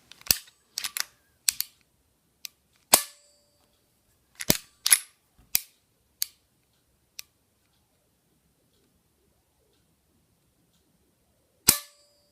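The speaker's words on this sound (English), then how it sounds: "there are two, count them, two reset clicks" Taurus PT 738 TCP .380 pistol giving sharp, close mechanical clicks from its trigger reset and action, heard in small separate groups with silence between them.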